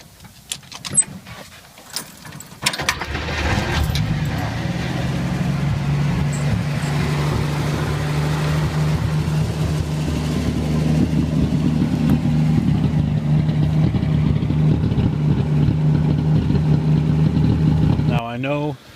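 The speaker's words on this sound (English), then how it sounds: "any key on my key ring will start the car" A car with a keyed ignition cranks and starts after a couple of seconds, then idles with a steady, loud engine drone, ending in a brief whining sweep.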